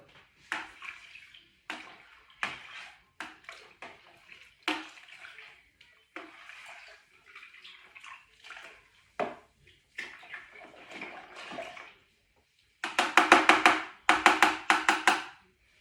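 Homebrew stout wort being stirred in water, a run of separate sloshing, swirling strokes with short pauses between them, ending in a louder, denser burst of splashing near the close.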